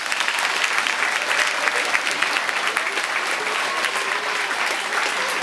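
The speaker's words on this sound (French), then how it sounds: "On peut aussi les applaudir" Sustained, dense applause from an audience at a judo club's end-of-season general assembly in Saint-Georges-sur-Eure, even and continuous across the room.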